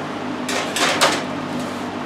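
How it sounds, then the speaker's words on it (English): An oven door is handled as granola trays go into a home oven: a quiet thump and a couple of brief scraping, rattling clatters over a steady low kitchen hum. "And now they're going to go into the oven."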